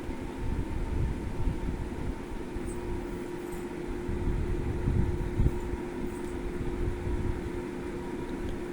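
A homemade toy fan driven by a small battery motor spins continuously, giving a steady low hum with a faint whirring tone, close and moderately loud, with no voices.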